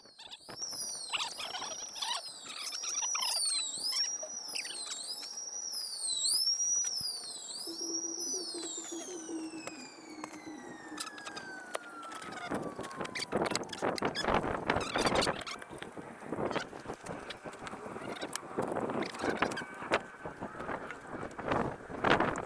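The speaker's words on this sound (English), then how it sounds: "That's the emergency siren test." A monthly emergency warning siren test wails in repeated rising and falling cycles, loud and close, then winds down into a long falling tone before clattering, thumping handling noise takes over.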